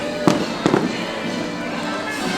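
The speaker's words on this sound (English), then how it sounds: "Even in this, fireworks are still popping." Two sharp firework bangs pop in quick succession at a Disney park in the rain, followed by a steady hiss of rain and crowd noise.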